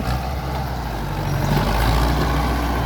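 The engine of a Ford tractor converted into a sugarcane loader runs at a steady, loud, close drone with a deep low rumble, heard alone without speech.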